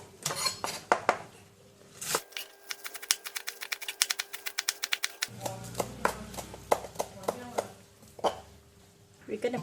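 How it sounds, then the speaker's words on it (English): A knife chops spring onions on a cutting board in quick, crisp, evenly spaced taps, with a short pause partway through, set among kitchen clinks and handling noises while preparing an omelette with bitter gourd. "I'm going to cut the spring onions."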